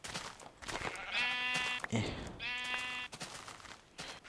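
Sheep in Minecraft Infdev bleat twice in quick succession, two clear wavering calls close together, with someone talking over and around them.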